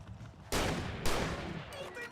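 Shotgun blasts in the video game Alan Wake Remastered: two loud, booming shots about half a second apart, each with a rumbling decay, followed by fainter echoing debris.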